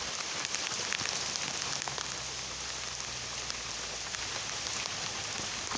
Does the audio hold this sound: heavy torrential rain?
yes